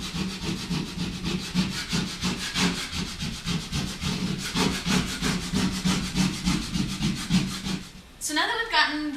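A burnishing tool rubs vinyl letters firmly onto a wall in quick, even back-and-forth strokes, loud and close and rasping almost like sawing, ending with a short squeaky scrape.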